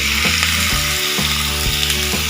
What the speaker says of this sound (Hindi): चिकन को हम मीडियम फ्लेम पे भूनेंगे